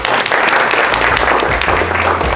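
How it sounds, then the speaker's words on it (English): Loud, close applause from a keynote audience, a dense continuous burst of clapping filling the short span without pause. "give yourselves a round of applause for being here today"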